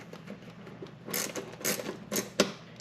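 A 10mm socket tightens a bolt head while a Saddlemen Explorer LS motorcycle seat is installed, with a few short, quiet bursts of mechanical ratcheting clicks separated by brief pauses.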